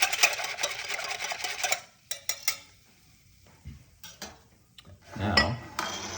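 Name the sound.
whisking sourdough ingredients in a bowl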